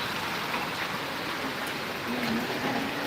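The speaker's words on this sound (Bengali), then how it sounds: "সুন্দর বৃষ্টি" Steady rain falling, a dense even hiss with no breaks and no voices.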